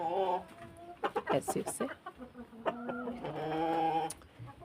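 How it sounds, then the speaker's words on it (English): Farm chickens cluck and squawk in a coop, several birds calling close by in uneven bursts, with a person briefly speaking among them. "we have a chicken on this side"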